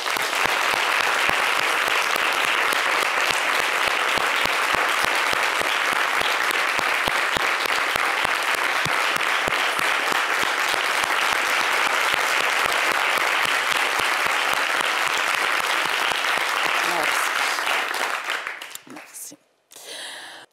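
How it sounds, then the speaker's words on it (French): An audience at an evening show gives loud, sustained applause in memory of someone, clapping densely and steadily for nearly twenty seconds before it tapers off at the end. "je voudrais que vous vous leviez ce soir et que vous applaudissiez très, très fort en sa mémoire, car Marie-Dominique"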